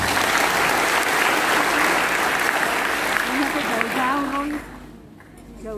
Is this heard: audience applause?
yes